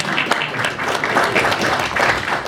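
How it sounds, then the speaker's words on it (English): An audience gives a round of applause at a panel interview, a steady full wash of many hands clapping at once, loud and continuous throughout. "that deserves a round of applause."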